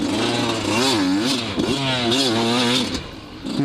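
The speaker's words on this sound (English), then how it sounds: "My cousin is riding a Sun L250." A Sun L250 dirt bike rides on a trail, its engine loud and close with rising and falling revs as the throttle opens and eases.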